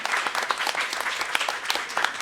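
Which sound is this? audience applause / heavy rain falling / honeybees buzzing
audience applause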